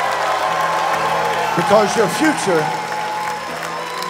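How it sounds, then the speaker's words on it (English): A church congregation claps and shouts during a worship service, a diffuse wash of applause and cheering under a loud preacher's voice, swelling briefly in the middle. "Everybody in the building, clap your hands and shout to God with a voice of triumph."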